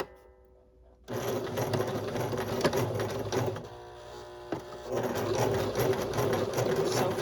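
A sewing machine stitches a plain seam with backstitching. It kicks in after about a second of quiet and runs in a close, steady mechanical hum that dips briefly in the middle before picking up again.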